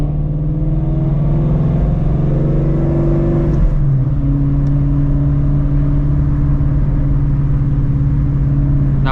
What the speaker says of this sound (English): I'll just give it a little bit of a blip when I take off.